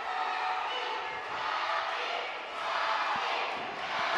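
Wrestling arena crowd at an ASWA match roaring and cheering for a wrestler, a dense sustained wash of voices that swells and dips in waves, with no clear speech standing out.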